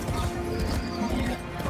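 Horse hooves clip-clop steadily in the video game Warframe beneath a dense, constant wash of game music and ambience, the hoofbeats partly buried in the mix.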